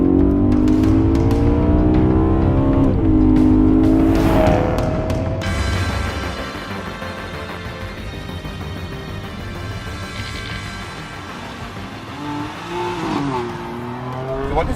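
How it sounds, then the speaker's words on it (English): A BMW M3/M4 engine revs hard while driving, its rising and falling pitch sweeping through gear changes, loud and close from inside the car, then easing to a steadier cruising drone before climbing again. "I think this has to be one of the best sounding M cars we've ever got"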